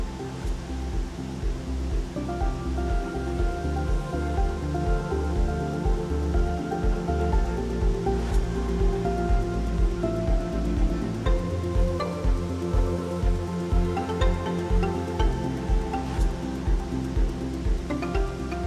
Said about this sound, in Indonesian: kita harus menikmati dulu aliran air terjun yang ada di bawahnya ini